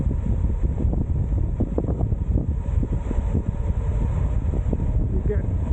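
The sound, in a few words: cold wind blowing on a hill walk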